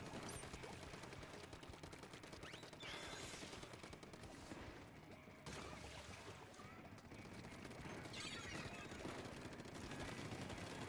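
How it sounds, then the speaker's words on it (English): Continuous gunfire aimed at the player in a video game, dense and steady throughout. Shots keep cracking through a busy wash of noise, and a faint voice sits underneath. "I think there's somebody like right on top of me shooting"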